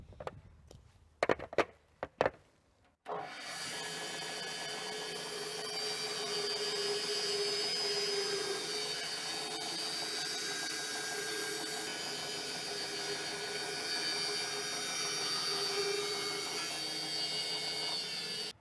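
A few sharp knocks, then a power saw starts and runs steadily with a loud whining drone, cutting a wood bowl blank into a circle for a long stretch.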